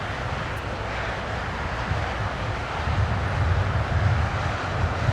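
A British Airways heavy jet arriving at Los Angeles International Airport, heard as a steady, broad engine roar with low rumble that swells slightly louder toward the end, with no talk over it.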